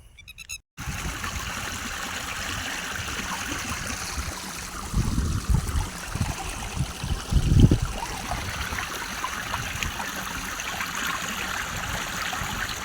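Water from a mountain-fed stream channel flows and trickles continuously nearby, with a couple of louder splashing surges partway through.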